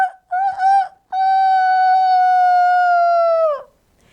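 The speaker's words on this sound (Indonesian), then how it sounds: "pagi hari ditandai dengan berkokoknya ayam jantan" A loud, close rooster crow in the morning, with short broken notes leading into one long, sustained call that ends abruptly, then silence.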